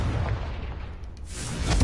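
A fire-spell explosion in Hogwarts Legacy lands as a deep, rumbling boom with a rushing burst near the end, loud and close.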